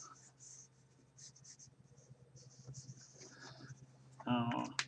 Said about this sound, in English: this is just a real light marker. It's so interesting on this paper.